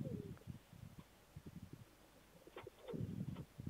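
Soft, low pigeon coos come in short bursts, a couple of rounded murmuring calls close by against a quiet background.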